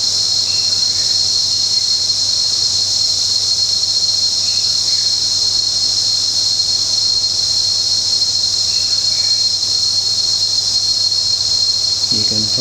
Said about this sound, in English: You can probably hear the sound of the bugs in the background.